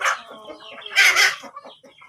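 Chickens in a coop cluck and squawk close by in a short burst, with one louder, drawn-out call in the middle, and no talk over them.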